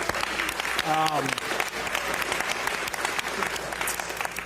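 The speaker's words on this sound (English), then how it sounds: "A nice round of applause for all of them." An audience in a room gives sustained applause at a governor's bill-signing event, a dense patter of clapping throughout, with a brief voice rising above it near the start.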